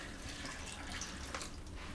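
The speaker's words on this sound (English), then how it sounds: "we have our pint of water." A pint of water is poured into a blender with kale and fruit, giving a short, splashy trickle close by, soft and steady for about two seconds.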